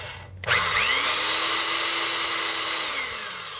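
A power drill whose bit carries a small spacer as a depth gauge bores a hole deeper. It sits quiet, then whines up to a loud, steady spin close by and holds it for about three seconds without talk.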